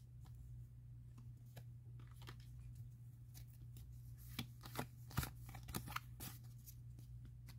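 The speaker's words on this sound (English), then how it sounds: "Oh, I dropped every card that was in my hand." Pokémon cards from a Boltund V box are gathered and handled after falling, making soft, close, irregular flicks and shuffles that grow a little busier toward the end, with no speech.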